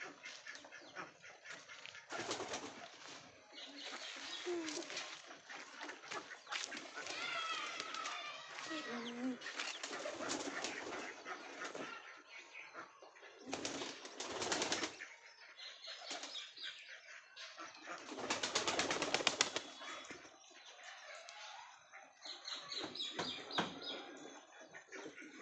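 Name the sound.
pigeons cooing while eating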